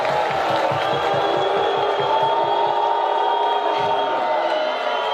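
A large audience breaks into sustained applause and cheering, loud and dense, with rhythmic clapping early on and an unbroken wash of crowd noise throughout.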